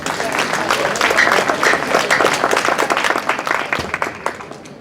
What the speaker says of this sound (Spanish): no antes darle la bienvenida también con fuertes aplausos